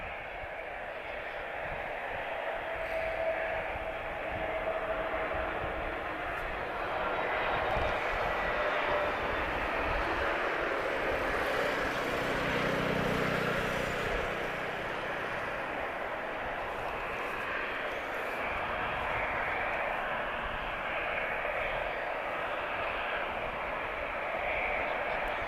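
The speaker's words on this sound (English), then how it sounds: "A320 arriving from my old home base, Manchester. This is EasyJet." EasyJet Airbus A320 arriving from Manchester at Lisbon Airport, a steady distant jet roar that swells gently and holds for a long stretch at moderate level.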